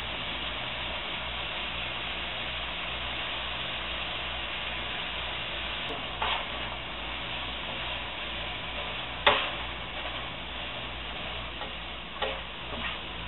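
Beef browning in a hot pan for fried rice, a steady close sizzle with occasional sharp clicks of a utensil against the pan, no talk.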